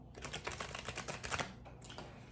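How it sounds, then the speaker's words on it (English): Rapid papery riffling and clicking of a deck of cards being shuffled at a kitchen island, a dense burst of crisp flutters close by, then a short pause and a final flick. "So I'm going to go ahead and shuffle."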